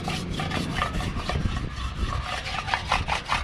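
Chalk rubbed over a hail-dented surface during a roof hail damage check, giving close, rhythmic back-and-forth scraping strokes that repeat steadily and grow quicker toward the end.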